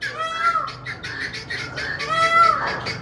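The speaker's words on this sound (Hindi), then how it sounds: "हमारा मोर देखे बहुत प्यारी प्यारी आवाज़ें दे रहा है हमारा मोर।" A pet peacock calls twice, loud and close, each a harsh, nasal, rising squawk with a few seconds between them, over soft outdoor background noise.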